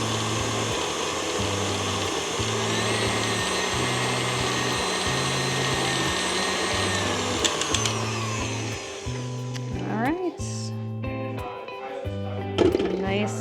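An electric mixer whips cream cheese frosting with powdered sugar at higher speed, a steady close motor whine with a pulsing low hum that shifts and slows near the end.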